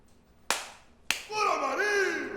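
Two sharp, loud hand claps about half a second apart, followed by a voice speaking right after.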